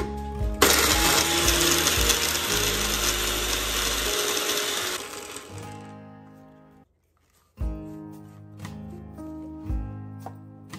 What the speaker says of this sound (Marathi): आता हे लसूण, मिरची आणि कढीपत्ता मिक्सर मध्ये वाटून घेऊया।